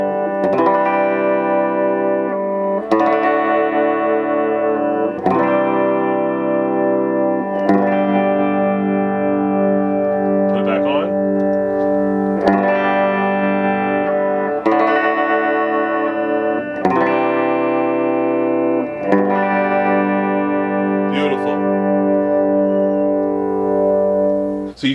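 Electric guitar played through a Steve Vai Legacy Drive all-tube pedal with the presence switch off, sustained distorted chords and notes with reverb and echo, slightly darker top end, loud and alone.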